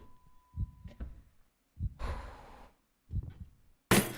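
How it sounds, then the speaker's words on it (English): A slow heartbeat effect from a horror video game thumps low and heavy at evenly spaced intervals, with a breathy swish between beats and a sharp noise at the end. "I can hear like the heartbeat."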